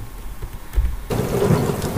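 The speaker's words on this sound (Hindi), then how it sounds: "गांव में बरसात हो रही होगी, it will be raining in the village" Thunder rumbles and heavy rain pours in a storm sound effect, a low rolling rumble swelling midway into a dense, loud downpour with no speech over it.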